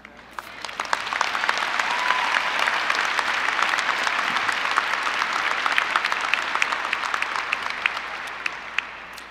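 Sustained applause from a large audience fills a commencement ceremony, dense clapping that swells and holds for about nine seconds with scattered sharper claps standing out, no speech over it.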